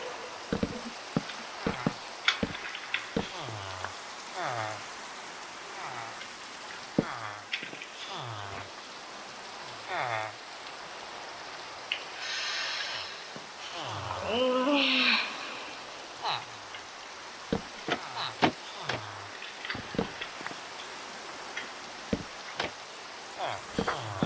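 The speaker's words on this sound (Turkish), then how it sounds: "yağmur efekti güzelmiş" Steady video game rain patter with scattered drops and sharp taps throughout, fairly quiet, with brief murmurs and a short burst of noise midway.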